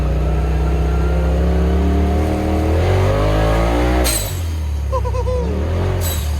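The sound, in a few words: turbo drift car engine accelerating on ice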